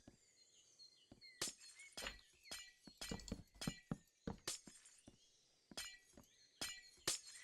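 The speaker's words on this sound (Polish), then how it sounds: "okno teraz wydaje dziwny dźwięk, jak się wstawia" Glass windows being placed in Minecraft trigger a series of sharp, bright glass-shattering crashes, about a dozen irregularly spaced bursts with tinkling tails, heard alone and fairly close.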